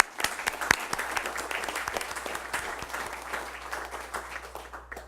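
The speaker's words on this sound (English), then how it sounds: "applause" A round of applause at a county commission meeting for a retiring Army National Guard veteran, with many people clapping in a moderate, steady patter that gradually thins toward the end.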